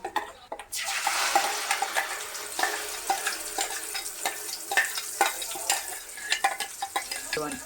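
Steady sizzling in a hot pan on high flame with repeated scraping strokes of a spoon stirring thick tomato paste, close and fairly loud, no voices.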